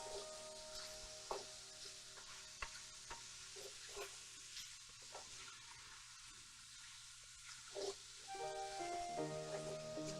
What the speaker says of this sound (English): just saute them, you know, a couple minutes